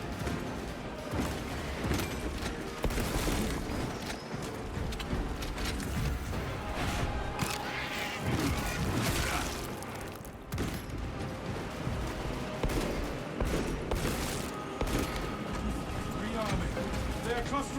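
Stalker bolt rifle fire in the Warhammer 40K video game, heard as a dense, continuous wash of game combat with shots, crashes and mechanical clatter, loud throughout with a game soundtrack layered underneath.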